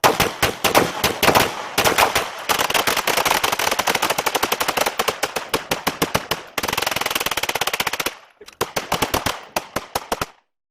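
Automatic fire from AR 5.56 rifles shooting armor-piercing rounds at a range rattles out in loud, rapid bursts, broken by a few brief pauses and ending in short, choppy volleys.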